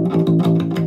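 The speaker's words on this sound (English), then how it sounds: "the round wound string has a, has a, has a, uh, has a, a, a, a winding sound like this" A short, gritty burst of guitar notes with a scratchy, wiry texture from a pick dragging along a round wound string, played close and loud.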